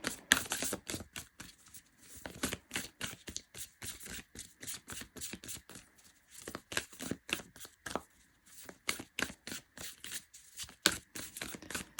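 Oracle cards shuffled steadily by hand, a dense run of quick papery riffles and flicks close to the mic, pausing briefly now and then before resuming, with no talking.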